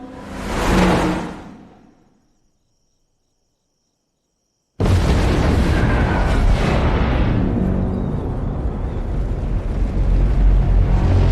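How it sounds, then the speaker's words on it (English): A rushing swell fades into silence, then a sudden massive CGI nuclear bomb blast in a zombie movie erupts into a loud, sustained rumbling roar that keeps going. "One sort of aged CGI nuclear bomb and truck flipping fallout explosion later"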